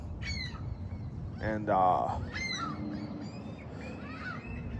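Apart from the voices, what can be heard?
seagulls calling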